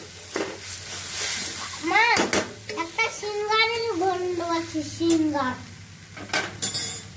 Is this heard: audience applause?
no